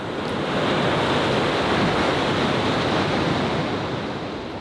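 Ocean surf along the Los Angeles County coast: a close, continuous roar of breaking waves with a steady, full wash of water and a little wind, and no voices.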